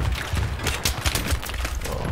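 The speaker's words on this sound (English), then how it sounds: "Stop using mortar." Mortar fire in Battlefield 3, a rapid series of loud booming impacts and blasts crowding together in close succession over a couple of seconds, with no talking.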